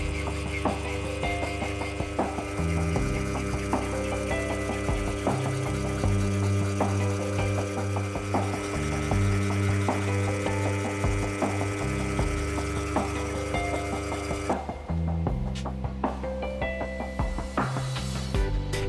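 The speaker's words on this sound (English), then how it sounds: "I'm finishing up those areas with a fine cut file on the filing machine." A filing machine working mild steel with a fine cut file makes a steady, rhythmic mechanical chatter with a constant hum beneath it. The sound runs unbroken and fairly loud, with a slight change in tone near the end.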